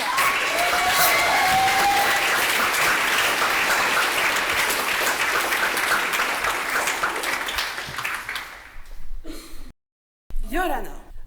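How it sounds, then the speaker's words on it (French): An audience applauds to welcome a speaker presenting a thesis on competition law. Dense applause from a hall full of people fades out, then brief silence and a voice. "Applaudissements"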